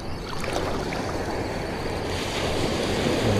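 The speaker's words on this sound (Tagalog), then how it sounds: "Ito yung alon." Ocean surf washing steadily offshore while fishing from a small boat, a continuous broadband roar of breaking waves mixed with wind buffeting the microphone, no voices.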